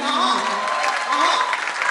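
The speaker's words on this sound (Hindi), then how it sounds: "तालियां बजाइए, लोग मिलके बजाइए वरना मत बजाइए" Audience applause at a comedy and poetry show at IIT Delhi, a steady dense wash of clapping filling the whole stretch at moderate loudness.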